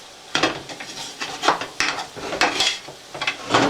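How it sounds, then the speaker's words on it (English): A spoon stirring flour into melted butter in a pot, with repeated scraping strokes against the metal and a light sizzle, close and moderately quiet in an uneven rhythm. "I'm going to cook this flour into the butter, and I'm going to stir it."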